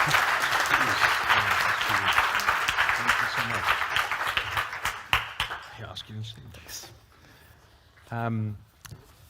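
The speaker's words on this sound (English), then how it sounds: "give them a round of applause" An audience at a conference panel on circular finance applauds, a dense wash of clapping that swells and then gradually thins out, followed by a voice speaking over a microphone.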